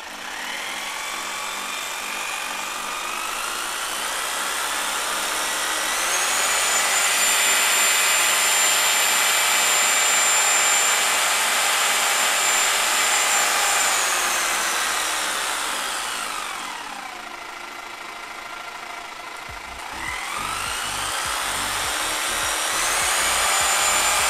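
A Japanese 100V variable-speed power tool rated 800 to 3200 rpm runs close by with a loud whining hum that rises in pitch as it speeds up, drops as it slows, then ramps up again.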